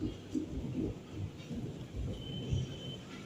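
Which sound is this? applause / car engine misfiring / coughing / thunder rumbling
thunder rumbling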